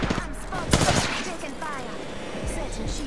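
Bursts of gunfire from an Apex Legends firefight crackle throughout, loud and fairly dense, partly overlapping with a player's voice talking.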